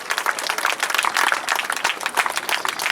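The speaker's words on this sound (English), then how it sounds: "Please, a massive round of applause." An air festival crowd at Duxford applauds, a dense, steady burst of clapping filling the whole three seconds at moderate loudness.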